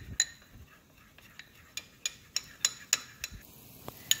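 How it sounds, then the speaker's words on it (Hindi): A spoon clinks against a bowl while cornstarch is stirred into water to dissolve it, a series of light, irregular taps close by over a quiet background. "ये मैंने थोड़ा सा कॉर्न स्टार्च ले रखा है, हम इसको पहले घोल लेते हैं"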